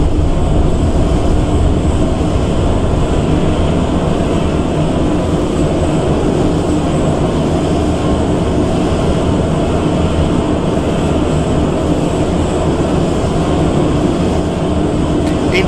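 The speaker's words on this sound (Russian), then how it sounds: "Звук неплохой, как в реальном метро." Moscow metro train cars riding along the line in a Roblox game, a loud steady rumble and roar of wheels and motors that holds without a break throughout.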